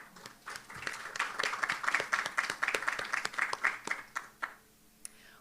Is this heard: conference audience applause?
yes